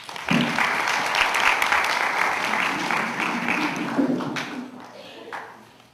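An indoor audience at a community evening event applauds to welcome a doctor, producing loud, sustained clapping that lasts several seconds and fades out at the end.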